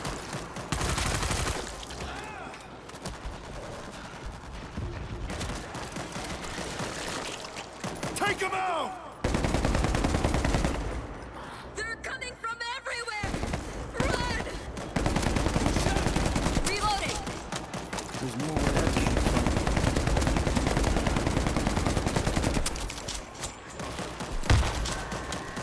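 Sustained gunfire in the zombie shooter World War Z, New York level: dense bursts of rapid automatic shots and heavy blasts, close and loud, running almost continuously with brief lulls and shouting voices mixed in.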